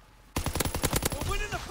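The Austin submachine gun fires in Call of Duty WWII: a quiet lull, then a sudden loud rapid burst of shots lasting about a second, followed by ringing tonal game sounds.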